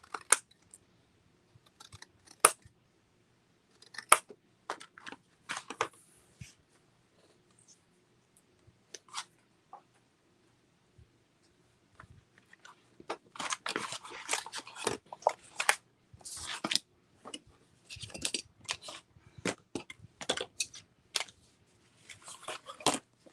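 Scissors trimming the ends of paper pockets for a mini album, a series of sharp snips and clicks close by, sparse at first and then denser, with no talking.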